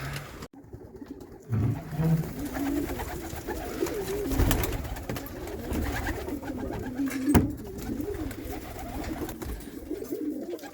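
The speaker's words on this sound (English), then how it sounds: "These are my pigeons, y'all." Several pigeons cooing in low, throaty bursts, overlapping one another with some rustling and flapping in the background.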